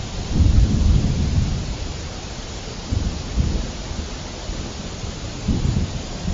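Cartoon storm sound effect of steady rain over ripe paddy fields, with low rumbling thunder rolling in swells, loudest near the start and again toward the end, no voices.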